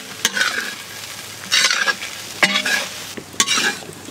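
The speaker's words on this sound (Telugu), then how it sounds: "ఇప్పుడు ఇవన్నీ ఒకసారి కలుపుకోవాలి" Spices such as coriander powder and pepper powder being stirred together in a hot frying pan for cauliflower rice, with several bursts of scraping and sizzling separated by brief quieter pauses, close up and without talk.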